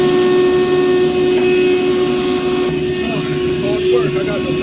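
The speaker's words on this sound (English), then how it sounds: "I got the vacuum going" A vacuum cleaner runs steadily during appliance maintenance cleaning, producing a loud, close, continuous whine with a constant tonal hum that holds throughout.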